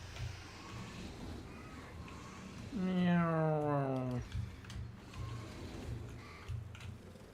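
A voice imitates a cat's meow with one drawn-out, falling, tonal call near the middle, rising clearly above a low murmuring background.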